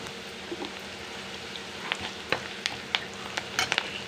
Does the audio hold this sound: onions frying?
yes